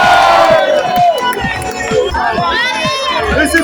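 Crowd cheering and shouting along the roadside at the start of the Marathon de la Bière in Montbrison, Loire, a loud continuous roar with whoops, a voice talking over it throughout.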